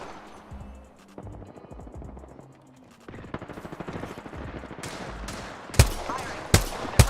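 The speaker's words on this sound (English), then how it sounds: "Getting shot at." Gunfire from an Apex Legends match: bursts of rapid automatic shots start low, then grow denser and louder, with several sharp, heavy reports near the end.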